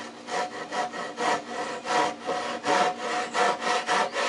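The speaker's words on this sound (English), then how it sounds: "I'm using the Japanese pull saw" Japanese pull saw making an angle cut through wood while building a sawhorse, with close, steady rhythmic rasping strokes repeating about twice a second.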